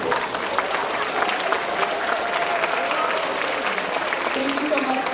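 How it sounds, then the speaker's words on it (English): Steady, dense applause from an audience at a student union debate, a continuous wash of many hands clapping at even loudness throughout. "If you could please hold your applause until the end of the debate round"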